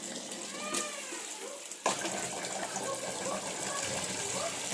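Tap water gushing steadily in a home courtyard, a continuous close rush that starts abruptly and keeps going, with a cat-like meow or faint voice early on.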